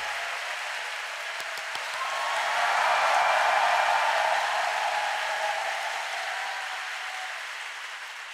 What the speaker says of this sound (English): Please give another great round of applause to His Excellency Gennady Burbulis.